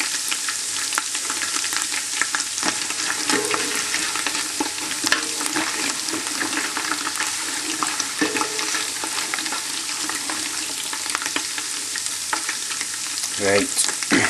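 Garlic frying in a pot as the base for an Indian takeaway-style curry gravy gives a loud, steady sizzle that never lets up, with occasional scrapes from stirring.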